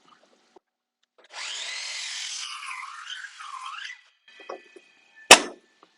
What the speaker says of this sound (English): So we'll go ahead and give this a quick cut.